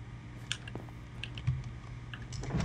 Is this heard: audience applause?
no